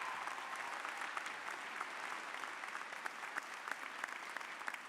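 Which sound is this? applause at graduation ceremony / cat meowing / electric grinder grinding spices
applause at graduation ceremony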